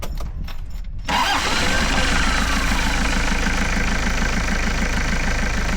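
A van engine cranks briefly, catches, and settles into a loud, steady idle with a rhythmic low throb close by.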